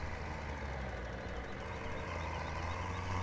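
A Ford tractor engine runs steadily in the Farming Simulator 17 video game, with a low knocking, idling drone that stays constant and fairly faint throughout.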